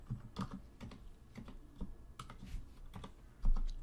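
Typing code on a computer keyboard, with clustered key clicks in uneven bursts, close and moderately quiet, ending on a firmer thump.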